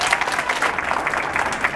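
A burst of enthusiastic applause from an audience at a Houston Public Library summer reading program event, steady and fairly loud.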